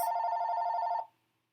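A phone rings with a steady electronic bell tone, close and clear, holding for about a second before cutting off into silence.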